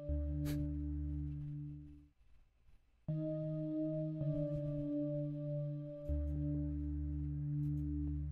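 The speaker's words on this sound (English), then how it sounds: "Some ominous bells." Ominous sustained bell tones in an FL Studio beat, ringing in long held notes over a heavy bass drone, cutting out for a moment and then returning with a sharper attack.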